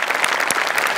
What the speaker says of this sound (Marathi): मस्त जोरदार टाळ्या शिवालीसाठी